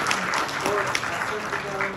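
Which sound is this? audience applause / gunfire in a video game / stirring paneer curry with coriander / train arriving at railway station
audience applause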